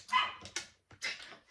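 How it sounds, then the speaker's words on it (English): A dog barks and yips several times in quick, uneven bursts, loud and close, with a slight whimpering edge to some barks. "that dog likes to bark"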